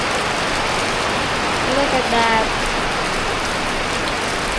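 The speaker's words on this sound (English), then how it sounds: "No work because of the rain." Heavy rain pouring over a flooded corn field, a dense, loud, steady hiss throughout, with a voice speaking briefly over it.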